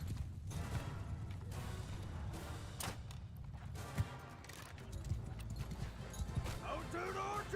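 Horse archers' hooves gallop in the video game Bannerlord, a continuous low thudding clip-clop of many mounts under battle noise, with someone talking over it.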